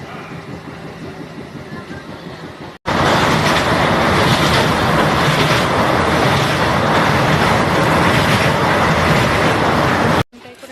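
A passenger train in motion, heard from inside the carriage: a loud, steady rumble and clatter of wheels on track fills most of the stretch, starting abruptly after a quieter opening and cutting off near the end.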